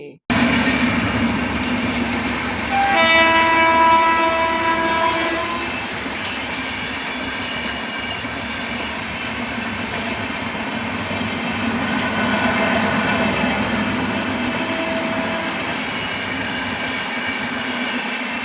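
A train rumbles past nearby in heavy rain, a tonal horn blast sounding early on over the steady rolling clatter of the wagons.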